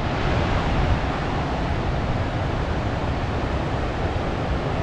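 Ocean surf rolling in at high tide on the Oregon coast near Tillamook, a constant broad wash of breaking waves, loud and unbroken with no voices.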